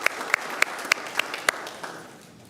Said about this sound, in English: One last round of applause, ladies and gentlemen.